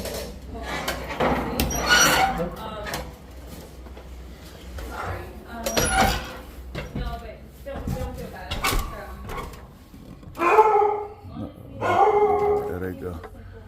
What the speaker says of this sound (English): Y'all barking earlier.